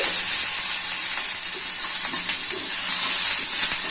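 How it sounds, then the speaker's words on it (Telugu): Brinjal pieces fry in a pan with a loud, continuous, steady sizzle and hiss, close up and alone. "ఫస్ట్ వంకాయలు వేయించుకుందామండి."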